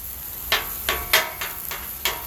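A metal spatula chops food on a Blackstone hibachi griddle, six or seven sharp, evenly spaced clanks over a soft steady sizzle, close and without talking.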